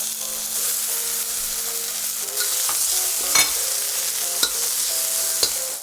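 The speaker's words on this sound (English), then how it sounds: "After stir-frying the garlic and bell peppers for about 30 seconds on high, we'll add the scallions followed by all of the pork." Garlic and red and green bell peppers stir-fry in a hot wok for salt and pepper pork chops, giving a steady close sizzle broken by scraping spatula strokes.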